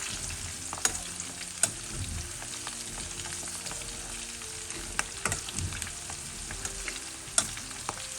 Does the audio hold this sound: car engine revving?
no